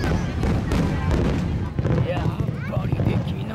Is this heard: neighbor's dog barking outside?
no